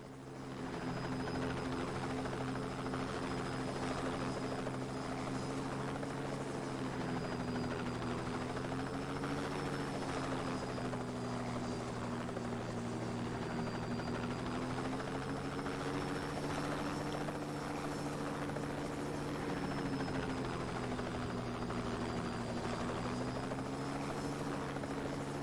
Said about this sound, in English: So this helicopter will be on my ass.